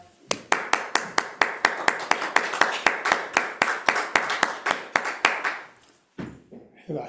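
A small group claps together in a slow, even rhythm, about twenty sharp, close claps that fade out, followed by a short burst of noise at the end.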